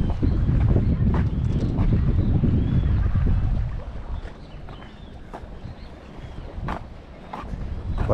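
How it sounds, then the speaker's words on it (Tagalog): Strong wind buffeting the microphone outdoors while fishing from a boat at Silagawi, heavy and loud for the first few seconds, then easing to a lighter, gustier rush with faint knocks. "Parang mahangin ngayon"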